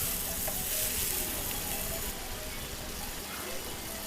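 Onions and spice paste stir-fried in a pan, a dense continuous sizzle with stirring scrapes, loud and close.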